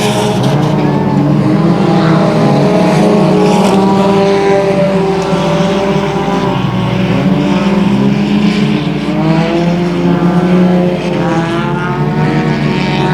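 Race cars roaring around a speedway oval during a late-laps feature, a loud continuous engine drone with rising and falling pitch as the cars pass through the turns, with a faint voice underneath.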